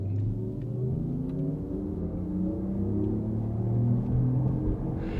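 A 2024 Porsche Macan EV pulls away from a green light with a low, rising hum and rumble, its electric motor note climbing smoothly as it gathers speed.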